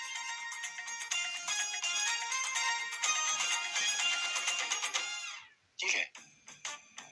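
A mobile phone ringtone plays loudly and steadily for about five seconds with a bright repeating melody, then stops abruptly, followed by a few short clicks and brief bursts of sound.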